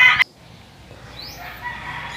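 A short sharp noise, then a rooster crows at a moderate distance, with faint chicken sounds in the background.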